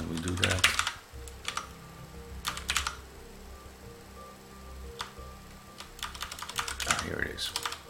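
Someone types a REXX program for MVS 3.8 on a computer keyboard, close-up bursts of rapid key clicks broken by pauses, with faint low background noise.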